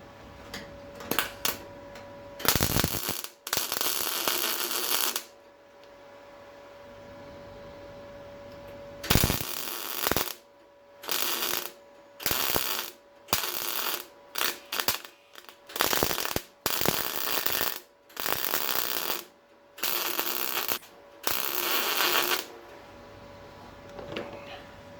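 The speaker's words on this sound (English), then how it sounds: "I'm going to try and weld it" Arc welding on a rusty Ford Cortina Mk V body panel in a restoration: bursts of crackling, buzzing weld of a second or two each, separated by short pauses, fairly close, with no talk.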